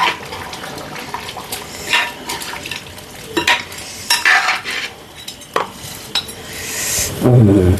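A spoon stirs homestyle chicken curry in a pot: wet sloshing and scraping broken by frequent metallic clanks against the rim, irregular and close, with a louder clatter at the end.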